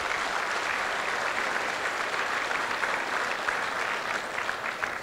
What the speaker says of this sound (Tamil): அவங்களுக்கு இன்னும் பெரிய கரகோஷம் கொடுக்கலாம்.